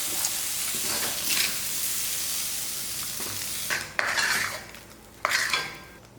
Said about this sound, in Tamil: இதெல்லாம் எடுத்து மிக்ஸி ஜாரில் போட்டுடலாம்